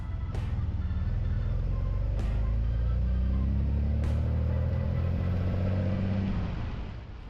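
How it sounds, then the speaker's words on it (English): A 1960s car without power-assisted steering drives along a long approach road, its engine a steady, close low rumble throughout, with a few brief sharp knocks along the way and no voices. "For a 60s car, the most notable part of the drive is the rock-steady handling."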